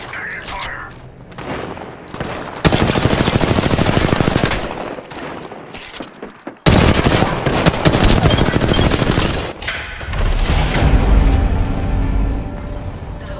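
Rapid automatic fire from an R-301 rifle in Apex Legends: loud, close, sustained bursts with booms and thuds between them, and voices talking over the shooting.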